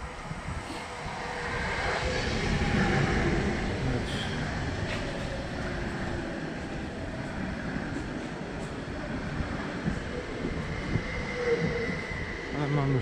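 Trains pass along a railway line near Warsaw with a steady, loud rumble and rolling noise that swells and holds for several seconds.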